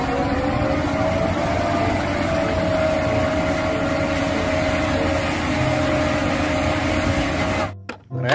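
Toy cement mixer truck gives off a steady mechanical whir and hum, a constant droning motor sound that runs evenly before cutting off sharply near the end.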